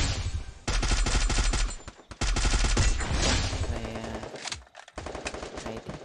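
Rapid machine-gun bursts ring out in the Free Fire battle royale video game, loud and close, in several fast rattling volleys broken by short pauses, with no speech over them.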